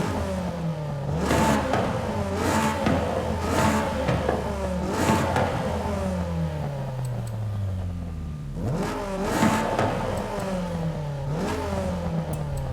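A naturally aspirated VTEC car engine in Forza Horizon 5 revs hard through repeated gear pulls, each climbing whine cut by a shift, rising again in a steady, loud, close rhythm.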